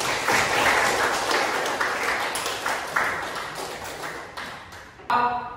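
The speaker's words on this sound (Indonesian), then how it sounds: "tepuk tangan dulu untuk kita semua" Classroom students clapping together, several rhythmic rounds of claps that gradually weaken, followed by a sharp clatter at the end.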